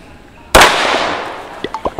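A single loud rifle shot cracks during shooting practice, its sharp onset followed by a long decaying tail, with a few faint clicks afterward.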